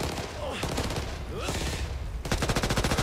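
Rapid automatic gunfire in the game Back 4 Blood rattles in bursts, with a denser sustained stream of shots toward the end, mixed with game effects and voices.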